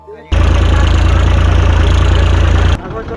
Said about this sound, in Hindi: देखिए अभी ट्रैक्टर लेके आ गया हूँ